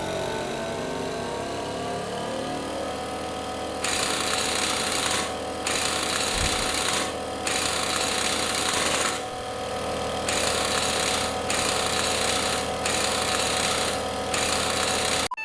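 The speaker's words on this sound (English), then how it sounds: "sorry for the loud air compressor" Loud, steady in-game air compressor runs throughout a Farming Simulator 22 tire swap, with bursts of a pneumatic impact wrench rattling on and off over it from about four seconds onward; no talking.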